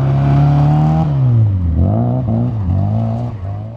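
A race car on an autocross course laid out with traffic cones, its engine loud and close, revving and dipping repeatedly as it brakes and accelerates through the twisting turns, no talk.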